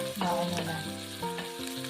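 Partly frozen ground pork and white onion fry in a pan, giving a steady, moderately loud sizzle with crackling bursts and no talking.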